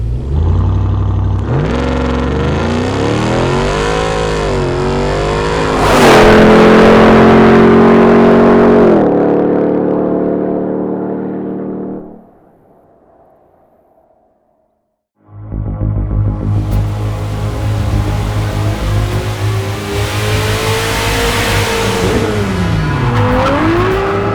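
A Hennessey Mammoth 1000 Ram TRX pickup truck with 1000 horsepower revs and accelerates hard with a rising, roaring tone, drops away briefly to near silence, then roars loudly again as it pulls away.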